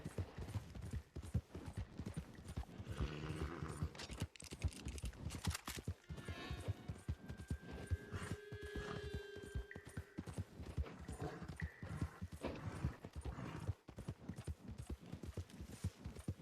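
Horse hooves clip-clopping on the ground in an open-world video game, a steady close rhythmic clatter lasting the whole stretch, joined midway by a couple of sustained tonal whines and faint mechanical rattles.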